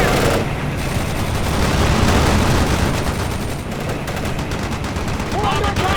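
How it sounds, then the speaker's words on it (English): Sustained gunfire and explosions in the World in Conflict real-time strategy game, a dense continuous barrage of rapid shots with booming impacts throughout, with battlefield voices mixed in. "They're firing at us."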